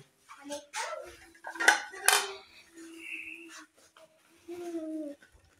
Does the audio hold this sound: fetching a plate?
yes